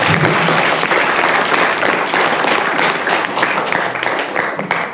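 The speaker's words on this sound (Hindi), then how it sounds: "आप सभी एक बार जोरदार तालियां।" A crowd of attendees at a school prize-giving ceremony claps loudly and steadily throughout, a dense wall of applause that tapers only slightly at the very end.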